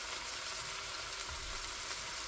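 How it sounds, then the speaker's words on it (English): Seasoned taco mincemeat frying in a pan, a steady, dense sizzle that fills the whole stretch, fairly quiet and continuous with faint stirring underneath and no talking. "and give it a good stir. Stir this nicely."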